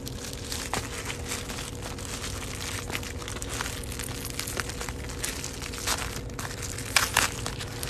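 Mail packages being opened by hand, with continuous close crinkling and crushing of plastic and paper packaging, irregular rustles and a louder burst of crumpling near the end, with no voices over it.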